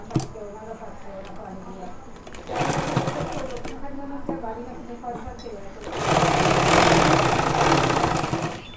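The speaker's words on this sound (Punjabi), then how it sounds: "ਇਸ ਤਰੀਕੇ ਨਾਲ ਇਹ ਵੀ ਆਪਾਂ ਟਾਂਕਾ ਮਾਰਾਂਗੇ" A sewing machine stitches a kurti, running in bursts that swell louder toward the end, with a voice talking between and over the machine runs.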